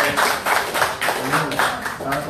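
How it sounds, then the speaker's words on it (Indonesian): Applause at an Indonesian PMI anniversary gathering, a small group clapping in an uneven, loosely rhythmic pattern with voices mixed in underneath. "Tepuk tangan untuk Mas Bapak."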